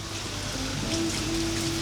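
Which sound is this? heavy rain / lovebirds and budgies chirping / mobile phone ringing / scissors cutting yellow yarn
heavy rain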